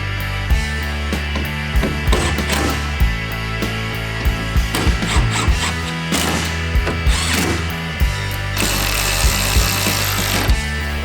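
Power drill or impact driver tightening fasteners on bedside MOLLE rack panels of a 2022 Toyota Tundra, heard as repeated short bursts of whirring and rattling with brief pauses between, loud and close, with no talking.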